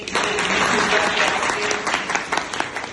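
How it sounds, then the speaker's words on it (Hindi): Students in a Hindi literature classroom break into a dense burst of applause, loud and close, fading slightly toward the end. "इस पर तालियां होनी चाहिए"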